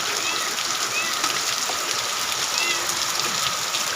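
Steady rain hisses down continuously, a broad even wash of falling water, with faint high chirps above it.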